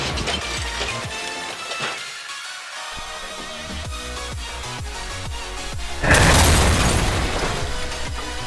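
A LEGO Boeing 727 model thrown from a two-story balcony smashes apart on impact, a sudden loud crashing burst of scattering plastic pieces that cuts in late and stays dense and noisy over a rhythmic background.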